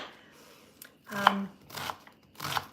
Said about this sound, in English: So 1 onion chopped